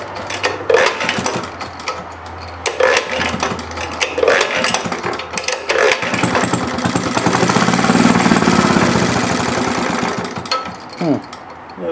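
A rare, restored Maytag engine runs after being fueled, its rapid, uneven chugging rising into a steady, loud putter close by, with no talk over it.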